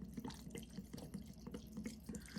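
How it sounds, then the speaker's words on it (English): Liquid poured from a bottle during a vanilla bean batch, a quiet, steady trickling stream with small gurgles and splashes, no talking. "let's keep pouring. Oh, it may take this whole bottle."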